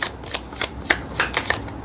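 Tarot cards being shuffled by hand in a series of crisp riffling bursts, about six quick rustles in under two seconds, close and clear with no talking.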